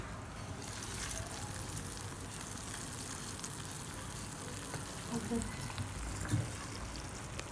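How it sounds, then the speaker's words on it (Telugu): Hot fried tempering goes into a pot of katte pongali and sizzles in a steady, dense hiss, close and even throughout, with a few soft clinks near the end. "కట్టి పొంగల్లో వేసేసుకుంటున్నాను."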